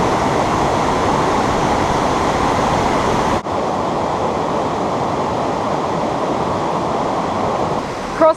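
A river in Exmoor National Park rushes steadily as a broad, constant wash of water noise, close and loud, with a brief dip partway through and no voices.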